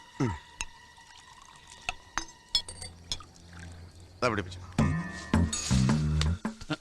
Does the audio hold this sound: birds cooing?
no